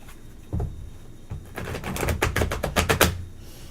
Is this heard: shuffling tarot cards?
yes